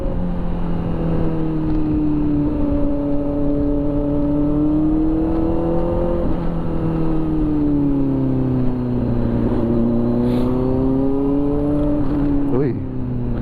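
Kawasaki ZX-4RR Ninja motorcycle engine revving loudly and steadily, its high-pitched whine rising and falling in sweeps as it climbs and drops through the revs, with people talking over it.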